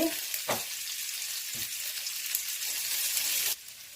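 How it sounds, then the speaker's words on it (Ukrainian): Onions hit melted pork fat with caraway and a loud, close hiss of frying fills the pan, with a couple of soft stirring knocks before the sizzle drops slightly near the end. "Сало трошки розтопилося, кмин розкрив аромати. Тепер можна додати дві цибулі."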